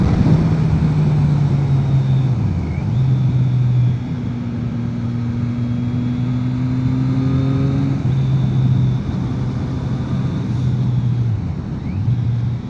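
A 2020 Triumph Street Triple 660 S motorcycle accelerating in sixth gear. Its steady engine drone holds close and loud, with a brief dip in pitch before the note rises again.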